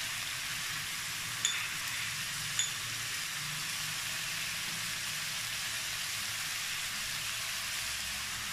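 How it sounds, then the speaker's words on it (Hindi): Chicken pieces for cheesy chicken fritters fry in a pan, giving a steady, even sizzle throughout with a couple of faint utensil clicks and no talking. "ये देखिए चिकन बिल्कुल फ्राई हो चुके हैं"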